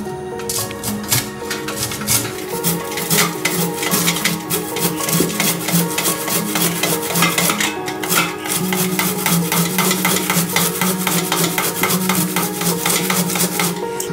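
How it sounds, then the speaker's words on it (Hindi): Fresh sweet corn is rubbed over the coarse side of a grater in quick repeated scraping strokes, close and fairly loud, with a steady rhythm and no talking. "तो चलिए मैं आपको इसको कद्दूकस करके फिर बताती हूँ"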